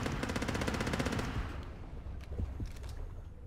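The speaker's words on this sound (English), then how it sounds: "I forgot I got more ammo for my awesome machine gun" Rapid, rattling machine-gun fire from the underwater shark-hunting game Depth, a fast, even burst of shots lasting about a second and a half. It fades into a murky underwater rumble with a few scattered thumps.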